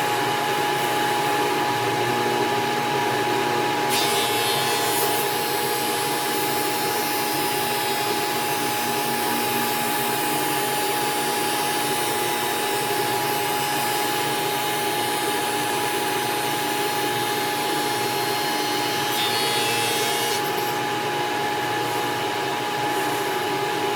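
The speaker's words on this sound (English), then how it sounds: "You just stand here, casually feed them through the machine, and let the machine do the work." Industrial sanding machine working cabinet pieces fed through it, a steady loud broadband roar with constant mechanical hum throughout, brief shifts in tone near the start and end as pieces pass.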